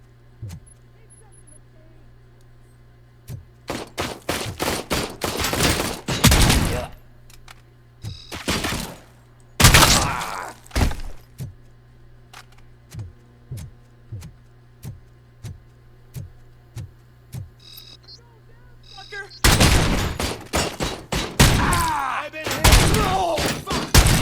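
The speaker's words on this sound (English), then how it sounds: "How many times did I have to shoot that guy?" Shots fired at an enemy in the video game RoboCop Rogue City, loud clusters of rapid impacts and bangs in several separate bursts, with quieter ticking and a low hum between them.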